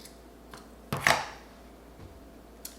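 Scissors snip through faux fur for a gnome hat craft in a few short, close cuts, one louder central snip with fainter clicks around it, in a quiet room without speech.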